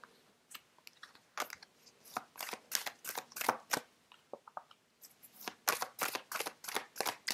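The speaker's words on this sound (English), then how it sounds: "Sorry, these cards are quite big. It's hard to shuffle." Large tarot cards being shuffled in a run of crisp, rapid riffling bursts and slaps, close up, with a brief pause midway before the shuffling resumes.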